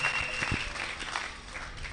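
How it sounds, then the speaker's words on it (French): An audience applauding, a brief, steady burst of clapping from a crowd at moderate distance with no speech over it. "Applaudissez très fort pour ça."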